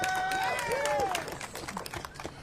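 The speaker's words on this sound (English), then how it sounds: "can we give them a round of applause for those folks who have unselfishly done" At a federal workers' rally outside USDA headquarters during a government shutdown, a crowd applauds with scattered cheers and whistles, heard fairly distant and softening after the first second.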